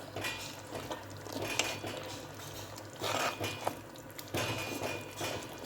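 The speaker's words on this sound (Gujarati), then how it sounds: "આ લીલી ડુંગળી આ ધાણા ભાજી એક બાઉલ ધાણા ભાજી એને હલાવી નાખીશું" Green onion and coriander get stirred into Jamnagar-style rasiya rice in a metal pot. A spoon scrapes and clanks steadily against the pot in uneven bursts, fairly close and moderately loud, with no voices.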